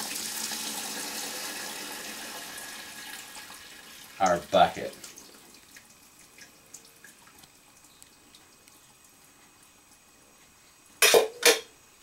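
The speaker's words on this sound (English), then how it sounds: "I'm going to take a strainer and we're going to separate the hops water just like this." Hops water pours through a strainer and trickles steadily for a few seconds, then fades away, followed by brief speech later on.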